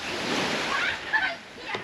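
Sea waves wash ashore at Toei Ngam beach in Sattahip, a broad rushing surf with wind noise and a splash, heard up close and fairly loud.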